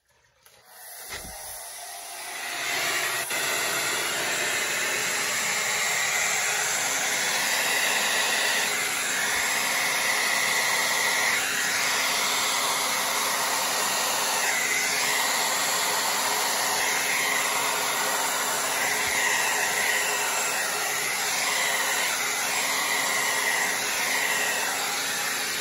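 A hair dryer blows thick blue-black cell activator paint across a surface. It starts with a click, then gives a loud, steady, close rushing whoosh with slight wavering airflow that lasts to the end.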